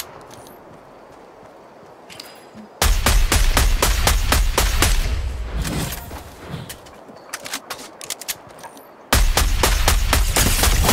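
Rapid, continuous minigun fire from a Fortnite match, two dense sustained bursts of loud rattling shots separated by a stretch of scattered single rounds and quieter battle noise, with no talking.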